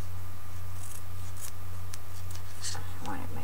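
Scissors snip paper for a gift bag: a few quick, crisp cutting strokes close by over a steady low hum, with no talk.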